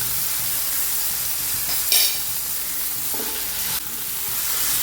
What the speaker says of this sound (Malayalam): ചെറിയ ഫ്ലെയിമിലിട്ട് വേണം വഴറ്റാൻ